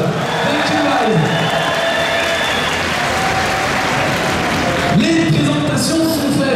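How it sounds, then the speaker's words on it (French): A large crowd applauds and cheers for team Rogue at the ESWC CS:GO world championship, Paris Games Week 2016. The dense, loud roar of clapping and whoops runs steadily throughout, with voices rising over it. "Applaudissements pour la Rogue"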